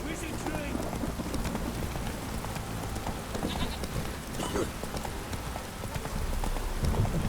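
Hooves of the horse Roach clip-clop steadily through rain in The Witcher 3, the rhythmic galloping close and continuous over a bed of rainfall, with someone speaking briefly.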